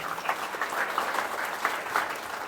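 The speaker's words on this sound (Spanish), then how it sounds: "levantar una ofrenda de aplausos por esta vida, por este pastor, por su esposa" Church congregation applauding in a Sunday morning service, honouring a pastor and his wife: steady, dense clapping from many hands, moderately loud and continuous with no voices over it.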